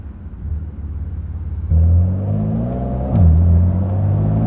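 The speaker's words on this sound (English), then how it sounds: "Now we gotta warm up the tires." A BMW E92 M3 with an S65 engine of about 530 horsepower drives off to warm its tires, the engine rumbling close by, then stepping up in revs and pulling harder with a brief gear change partway through.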